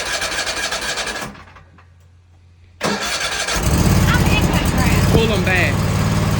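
A zero turn lawnmower engine runs loud and close, briefly dropping off, then cranking back up to a steady, rumbling roar while people talk over it.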